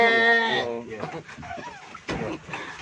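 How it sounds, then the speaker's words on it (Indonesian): A goat on a goat farm gives a short, wavering bleat close by at the start, then people talk over quieter farm background. "Ini ada kambing yang terakhir yang lucu, cuma bisa minum."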